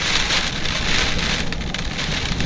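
Rain from a passing thunderstorm falls in a steady, loud, dense hiss of drops on surfaces close by, continuous throughout with no voices.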